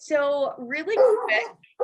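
A dog gives a few barks and yips mixed in with a person talking. The dog is close and fairly loud, and its barks overlap the speech.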